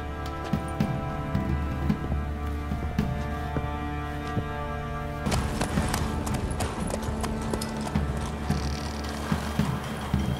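A mare's hooves clip-clopping, steady rhythmic hoof strikes that carry on throughout and grow sharper and busier halfway through, with a faint voice in the background.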